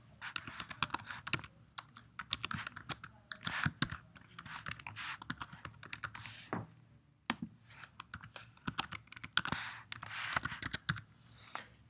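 Someone types on a computer keyboard, entering an email address and password for an online account signup, with rapid irregular clacking keystrokes close by and short pauses between bursts.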